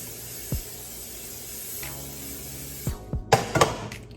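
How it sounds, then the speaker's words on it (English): Non-stick cooking spray hisses into a pan in a few short, close bursts near the end, after quieter kitchen handling noises. "non-stick spray."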